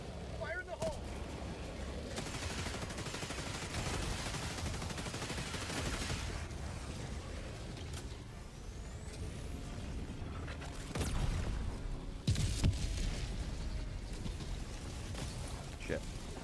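A grenade going off in the shooter game Helldivers 2, a booming blast buried in constant gunfire and battle noise, with a player talking over the fighting.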